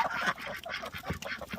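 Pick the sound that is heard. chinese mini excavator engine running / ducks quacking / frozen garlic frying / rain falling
ducks quacking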